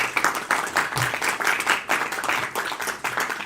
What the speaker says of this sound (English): So please, a big applause to Filippo.